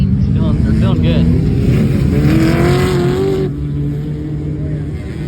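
A Yamaha Banshee ATV with its exhaust hanging off to the side runs loudly and close, its engine note rising steadily in pitch before dropping back to a lower, quieter idle, with voices around it.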